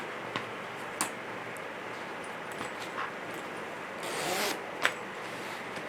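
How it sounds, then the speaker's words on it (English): A zipper on a handmade foxtail bag is handled in short, quiet zips and clicks, with a longer rasping pull near the end, close up against light rustling. "so this is the zipper"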